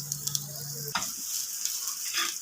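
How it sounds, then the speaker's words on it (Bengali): Chopped garlic, ginger, onion and capsicum frying in a pan with a steady close sizzle, a short stirring scrape about a second in, then continued hiss. "রসুন কুচি, আদা কুচিটা ভালো করে ভেজে নেব।"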